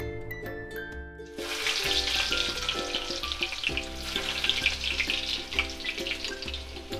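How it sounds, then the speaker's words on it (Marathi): Oil heats in a pan for a dry fresh-shrimp masala and breaks into a steady, close sizzle after about a second, continuing evenly with a faint tonal hum underneath. "आता मी पहिला तेल गरम करून घेतलं आहे थोडं."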